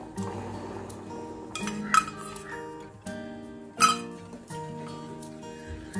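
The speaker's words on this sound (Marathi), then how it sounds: "मी ह्याच्यामध्ये हे कस्टर्ड पावडर मिक्स करते।" Custard powder being stirred into boiled milk in a pot, with a spoon clinking against the metal sides in repeated strokes over the hiss of the liquid.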